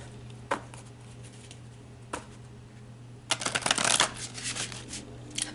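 A deck of tarot cards is shuffled by hand in a quiet room. Two short single riffles come first, then a longer, busier run of flicking and riffling near the end.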